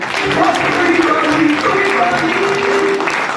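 A room full of people claps continuously and loudly, with a few voices mixed in under the applause.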